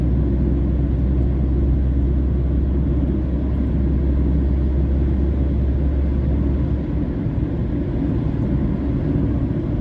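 An MSRTC bus speeds along a highway and overtakes other traffic; a heavy steady engine and road rumble runs loud and continuous inside the cabin.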